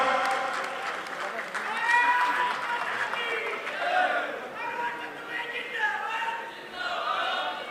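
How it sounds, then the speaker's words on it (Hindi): A crowd at a political ceremony welcoming a guest with clapping, a busy mix of applause, cheering and overlapping voices that swells and dips without stopping. "जोरदार तालियों से स्वागत"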